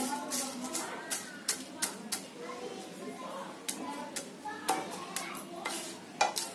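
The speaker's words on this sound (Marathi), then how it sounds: "आता याच्यामध्ये आहे ना पहिली मी तेजपत्त्याची पानं भाजून घेते." Bay leaves dry-roasting in a pan for Konkani masala, stirred with a utensil that gives a series of quick, fairly quiet scraping taps in an uneven rhythm, with a faint sizzle and soft voices underneath.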